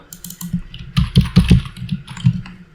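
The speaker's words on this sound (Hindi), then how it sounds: "अगर मैं 5 प्रेस करता हूँ कीबोर्ड से" Fingers type on a computer keyboard while coding a money counter app in ReactJS, with several loud, close clacks and taps in an uneven rhythm and no talking.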